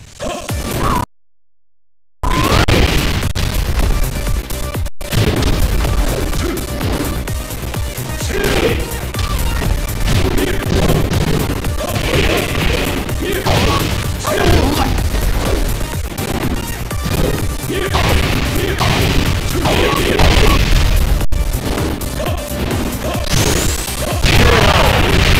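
Rapid punches, kicks and crashing impacts from a Tekken 6 fight on PPSSPP, loud and dense over a continuous game soundtrack, with almost no gaps.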